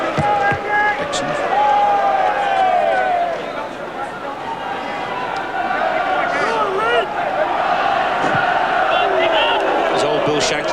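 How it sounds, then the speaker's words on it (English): A packed, noisy football stadium crowd at a 1993/94 Cup Winners' Cup match between Arsenal and Standard Liège roars and chants continuously, loud and dense, with a commentator's voice running over it. "It's going to be very difficult to get this crowd quiet here because they are very noisy."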